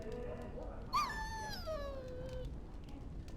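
A dog in the Dragon Age Origins game gives a single rising whimpering howl that slides down and trails off over a quiet, low background hum.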